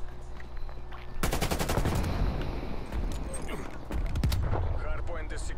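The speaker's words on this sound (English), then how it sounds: "Good cover fire." Rapid automatic gunfire in Call of Duty on the Nuketown map crackles in dense bursts after a quiet opening, with sharp shots and a brief lull before more firing, loud and close with some voices in the mix.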